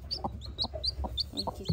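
A hen clucks softly and repeatedly beside her chick, with high, thin peeps rising above the low, steady clucking. The birds sound close, with no talking.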